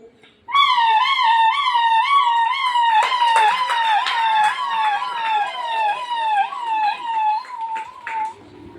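A voice imitates an ambulance siren, repeating a wavering wail in a steady up-and-down rhythm for several seconds, loud and close.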